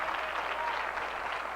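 Audience clapping at a talk on spiritual survival and social healing, a steady dense wash of applause throughout with no speech over it.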